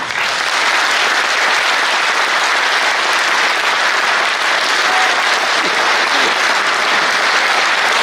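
A large crowd at a Hindu political rally in Varanasi breaks into sustained, dense applause, loud and continuous throughout with little voice above it.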